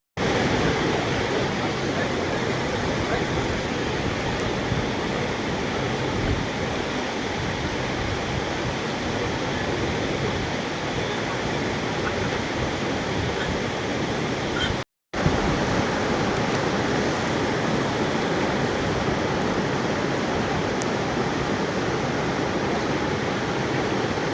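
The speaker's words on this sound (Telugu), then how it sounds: "సదర్మాట్ కాలువ నుంచి ఎమ్మెల్యే బొజ్జ పటేల్ సాగునీటిని విడుదల చేశారు" Irrigation water released from the Sadarmat canal, rushing in a steady broadband roar that runs unbroken for the whole stretch apart from one brief dropout midway, with no voices over it.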